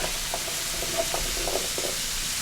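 Cut-up zucchini hits a hot pan, and a steady sizzle and crackle of frying holds throughout, with a few soft scrapes of stirring and a sharper clatter at the very end.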